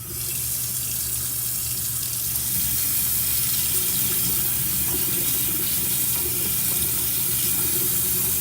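Hot water runs steadily from a bathroom tap in a small bathroom on the road, a loud, even rushing hiss that continues without pause.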